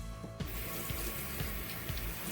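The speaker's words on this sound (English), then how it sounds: "Now we're going to rinse it one more time." Running tap water pours steadily over baby carrots in a sink, a dense close rush with a few soft knocks and clunks as the carrots are rinsed, and no talking.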